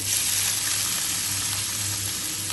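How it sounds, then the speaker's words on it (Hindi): Finely chopped medium onion sizzling steadily in hot spiced oil in a pan, a continuous close, even crackle with no voices. "प्याजों को हमने हल्का सा गोल्डन कर लेना है।"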